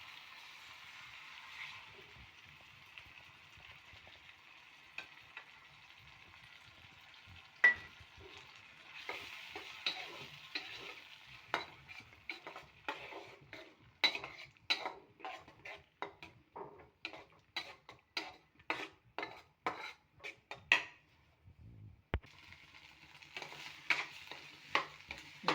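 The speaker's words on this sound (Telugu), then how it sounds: "ఇట్లా కొంచెం పొడిగా వేగిపోవాలండి బాగా" Two eggs frying dry in a pan, a steady soft sizzle broken by a long run of sharp, evenly paced ticks and scrapes as a spatula stirs and taps the pan, close and alone.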